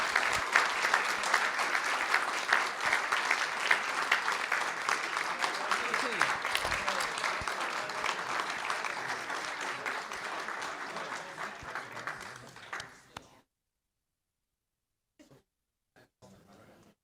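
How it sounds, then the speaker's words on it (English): A school board meeting crowd gives school principals a long round of applause, dense clapping that slowly fades out after about thirteen seconds and leaves near silence with a few faint knocks. "I want to bring our principals up and give them a round of applause"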